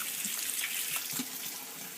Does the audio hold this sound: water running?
yes